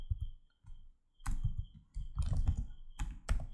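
Keystrokes on a computer keyboard while writing code, a quick irregular patter of clicks in short bursts with brief pauses, close and fairly loud with no talk.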